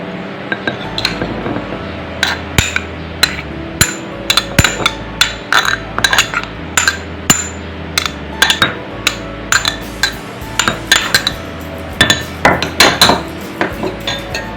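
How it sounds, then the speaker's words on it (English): Ginger being pounded in a mortar for a chicken curry gives a run of sharp, loud, irregular strikes with ringing clinks, repeating steadily and close up with no talking. "And I do the same thing. I start pounding."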